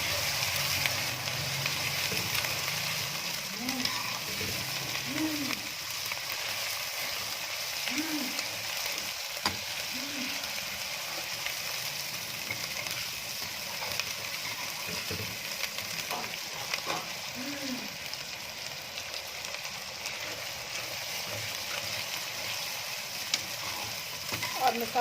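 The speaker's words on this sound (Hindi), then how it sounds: "और चंद सेकेंड तक भूनेंगे इसको।" Onions and masala with ginger-garlic paste fry in a pan over medium heat, giving a continuous sizzle with occasional soft scraping from stirring. The sizzle is close and steady throughout, and a voice briefly sounds faintly.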